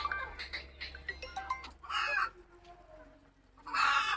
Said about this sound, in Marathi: कोंबड्या कशा या चिंचाच्या पाल्यावर तुटून पडत असतात